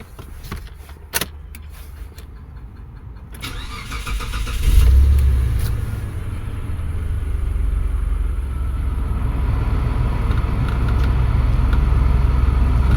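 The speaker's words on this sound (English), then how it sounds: "we're going to start the car again." A 2004 Mitsubishi Pajero starts up after a few clicks and a brief cranking burst, then settles into a steady, low running idle that continues close by to the end.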